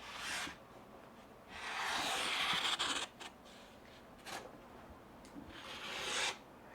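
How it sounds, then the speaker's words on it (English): A freshly sharpened kitchen knife slicing through a stiff paper cover sheet, heard as several soft, close rasping strokes with short quiet gaps between them and no talking. "This knife that I just sharpened cuts like this now."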